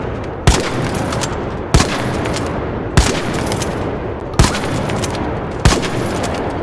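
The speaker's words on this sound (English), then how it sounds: "so 6 shots with the Toro in 15 meters" Five sharp, loud shots from a Toro blaster at 15 meters crack out at roughly even intervals over a dense, noisy background.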